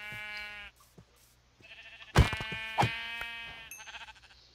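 Sheep in Minecraft bleat several times, with clear harmonic baas in a short sequence alongside faint game sounds.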